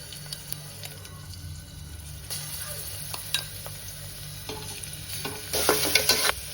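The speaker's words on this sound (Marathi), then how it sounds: "लसूण टाकून घेते मी" Garlic sizzles in ghee inside a pressure cooker, a continuous close frying crackle broken by scraping stirs and clinks of a spoon against the metal pot, growing louder toward the end.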